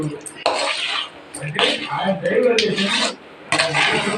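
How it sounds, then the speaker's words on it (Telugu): Frying and stirring in a pan over a high flame, with repeated close scraping and clattering of a spoon against the metal in uneven strokes, while a person talks over it. "కొంచెం మంట ఎక్కువ పెట్టుకొని వేపించుకుంటే"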